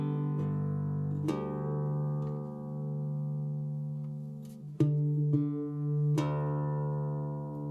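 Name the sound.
guitar open strings in alternate D G D G B D tuning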